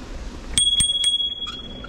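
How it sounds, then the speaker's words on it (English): A bicycle bell is rung four quick times, close and loud, its bright tone ringing on between strikes. "Make sure you ring your bell, guys."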